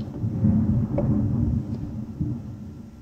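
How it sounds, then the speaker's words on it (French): Low rumbling thunder from a thunderstorm outside, a continuous muffled roll heard indoors for about three seconds at moderate loudness, with no one speaking. "il y a un peu de l'orage dehors"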